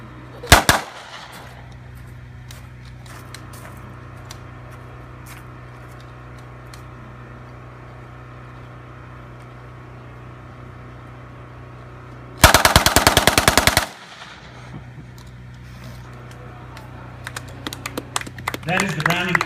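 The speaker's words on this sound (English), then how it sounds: "That is the Browning automatic rifle." Browning automatic rifle firing in a museum demonstration: a loud sustained automatic burst of rapid shots about a second long, preceded by a sharp crack and surrounded by quieter ambient noise and later clattering sounds.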